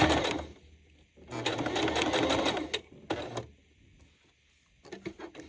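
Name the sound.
sewing machine stitching dish drying mat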